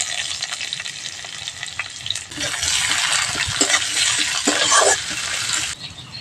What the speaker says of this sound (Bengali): তো দিচ্ছি পেঁয়াজ কুচি